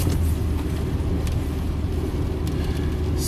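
A Honda car with an engine misfire on a test drive, its steady low rumbling road and engine noise continuous and fairly loud throughout, with no speech.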